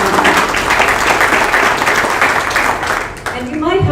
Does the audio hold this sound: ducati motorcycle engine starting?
no